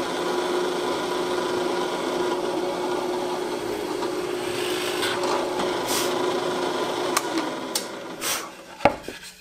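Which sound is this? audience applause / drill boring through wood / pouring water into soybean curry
drill boring through wood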